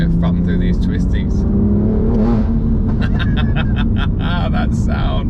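A courtesy car engine revving hard through twisty roads and shifting up into second gear, a loud continuous drone that rises in pitch, with someone talking over it.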